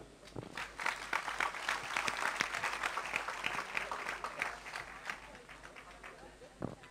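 Applause from an audience at a gathering with a speaker, steady and moderately loud for most of the span, with voices mixed in and a few sharper claps near the end.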